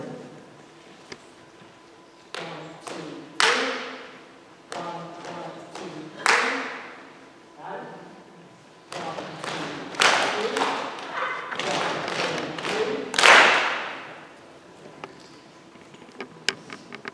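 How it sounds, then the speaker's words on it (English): Audience at a spoken-word performance about the Clotilda ship does a clapping celebration: repeated bursts of group clapping and thumping, mixed with a voice between them. "I want you to do that clapping celebration"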